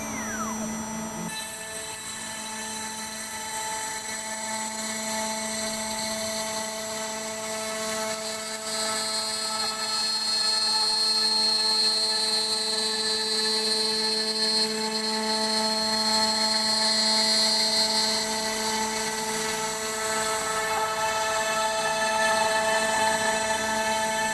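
A CNC machine spindle under Mach3 control spins up and runs steadily, producing a loud, sustained high-pitched whine with layered tonal harmonics and no talking.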